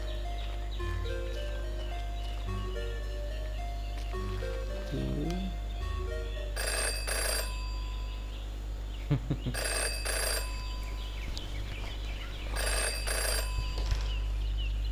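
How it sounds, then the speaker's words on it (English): A phone rings in the video game Jenny LeClue, in three distinct ringing bursts spaced a few seconds apart, over soft background music with a few melodic tones before the first ring. "Jenny had learned never to ignore a ringing phone"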